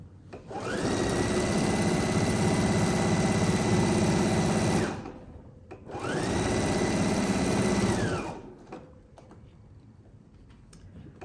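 A sewing machine back stitches a diagonal box pouch in two close, loud bursts of rapid mechanical whirring, each a few seconds long, separated by a short pause and ending in quiet clicks.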